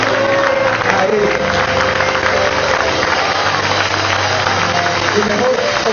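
A church congregation at a religious congress applauds and cheers continuously as a loud, dense wash of crowd noise, with a preacher's voice speaking over it throughout.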